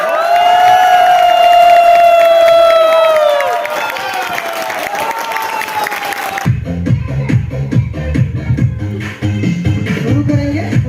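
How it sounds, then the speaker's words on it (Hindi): After a sustained tonal sound fades out, a crowd at a business gathering breaks into loud clapping and cheering, with dense irregular hand claps continuing to the end. "सर के लिए चलिए हल्ला सीटी और ताली कितना बजा सकते हैं?"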